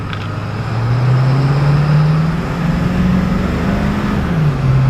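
A 7.3 diesel van towing a trailer on the road, its engine droning steadily and rising slowly in pitch as it pulls, loud and close from inside the cab, with no one speaking.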